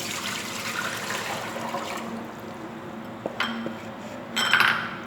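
Water poured into a cooking pot in a home kitchen, a steady close splashing stream with light metallic clinks near the end; no talk.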